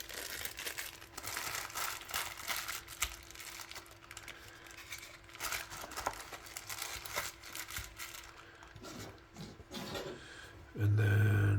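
A plastic bag crinkles steadily as a piece of cardboard is worked out of it while unboxing a fixed-blade knife; the close, rustling crackle runs throughout and ends with a brief thump.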